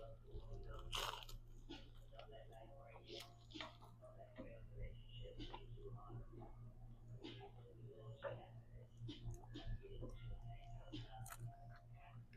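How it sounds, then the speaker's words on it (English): Repeated crunchy bites and chewing of a buttery, flaky pastry with a sugary crunchy top at a cafe, close and crisp, with scattered crackles over a low steady background hum. "I have to take another bite."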